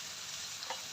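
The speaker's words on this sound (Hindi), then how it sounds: "इसको अच्छी तरह मिक्स कर लेंगे।" Cauliflower florets being mixed into fried masala in a pan, giving a steady close sizzle with a faint scrape of stirring near the end of a short stretch.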